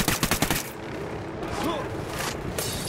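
Sniper gunfire in the video game Ghost Recon Wildlands: a rapid burst of sharp, repeated shots opens the clip, followed by a rumbling, noisy game ambience with a faint tonal sweep.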